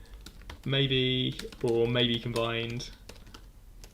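Fingers tap a computer keyboard in scattered bursts of light clicks, running under a person talking nearby.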